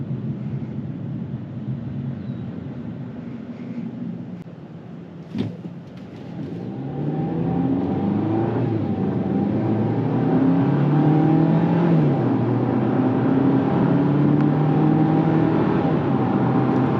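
A 2024 Jeep Compass cruising at highway speed, a steady engine and road drone with tyre rumble and wind noise that swells as it accelerates, a brief knock near the middle, with no talking.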